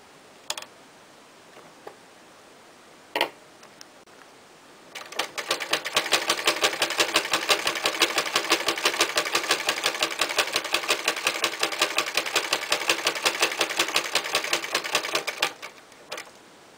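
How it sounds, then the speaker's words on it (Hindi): A sewing machine stitches a cushion cover made from old clothes, a fast steady close mechanical chatter running about ten seconds after a few isolated clicks, then stopping with a final tap. "अब मैं इसे यहाँ पे सिलाई लगाऊंगी।"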